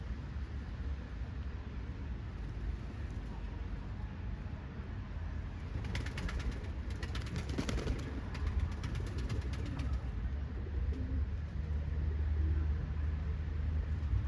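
Soft, low cooing of racing pigeons in a steady murmur, with some faint rustling and fluttering partway through, no voices.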